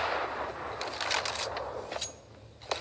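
Gunfire during a Counter-Strike match between Fanatic and G2A: several sharp shots crack out in quick bursts over a steady background hum, one isolated report following near the end.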